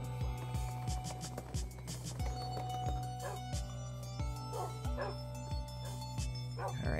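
Dogs in a video game bark in short repeated yips, a steady run of sharp barks over a constant low game hum, with a person speaking faintly in between.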